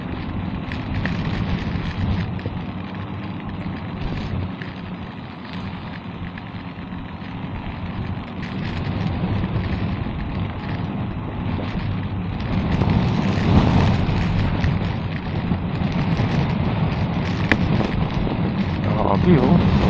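Heavy rain and strong wind during a typhoon, heard by a delivery rider. Dense, steady roaring noise runs throughout and grows louder near the end.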